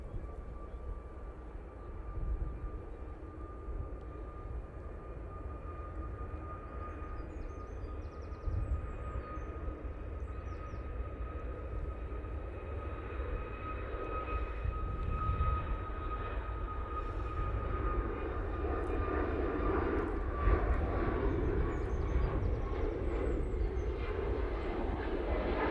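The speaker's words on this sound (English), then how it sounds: "First out is this Ryanair 737 MAX 8." A Ryanair Boeing 737 MAX 8 departs from Manchester Airport, its jet engines a steady distant roar with a thin whine that slowly builds in loudness over nearly half a minute.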